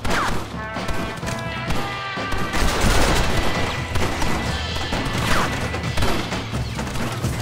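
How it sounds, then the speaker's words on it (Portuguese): Machine gun fire in Red Dead Redemption, a dense, continuous rattle of rapid shots mixed with crashes and booms, loud throughout the whole stretch. "Essa metralhadora."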